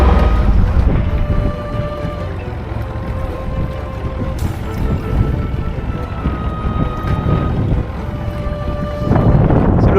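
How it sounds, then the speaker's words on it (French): Rumbling wind buffets the microphone in heavy gusts aboard a sailboat, with a low roar that rises and falls and swells again near the end. "C'est le vent, c'est le vent, c'est le vent."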